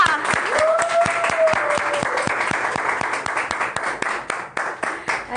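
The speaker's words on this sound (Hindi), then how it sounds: "तो आपकी भरपूर तालियों में हमारे साथ मौजूद है मुबीन ज़हरा" An audience applauds as a guest is welcomed onstage: sustained crowd clapping with crisp individual claps throughout, plus a brief whistle-like tone near the start.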